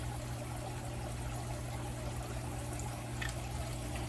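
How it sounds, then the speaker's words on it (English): Sesame oil poured into a pan for a chicken stir-fry, a faint steady trickling stream running continuously over a low background hum, with no talking. "So I'm going to take some sesame oil and pour in here."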